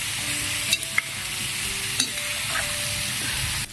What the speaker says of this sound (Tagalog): Kaya natin mapiritong bagya para lumabas yung sariling mantika niya mga tambay.